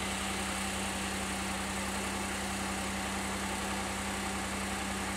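A Pontiac Aztek engine idles steadily after a cylinder misfire repair, a continuous low, even hum with faint vibration and no talking.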